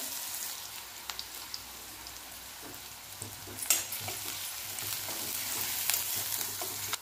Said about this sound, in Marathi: त्याच्यामध्ये कढीपत्ता टाकून घेऊया